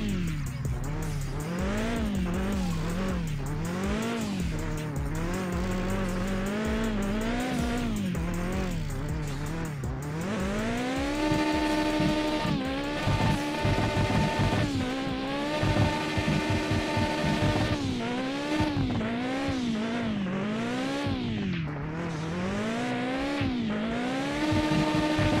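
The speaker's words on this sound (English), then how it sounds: "Let's try maybe one hand drifting." Car drifting and doing donuts in the Mon Bazou driving game, played on a Logitech G2 wheel: a steady, loud engine drone that rises and falls with revs, with tires squealing and skidding through the turns and no one talking.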